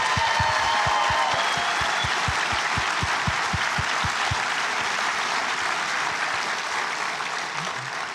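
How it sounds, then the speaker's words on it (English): A large audience claps loudly and continuously, with a few sharp rhythmic claps standing out early before the applause slowly thins near the end. "One more round of applause for our class of 2025."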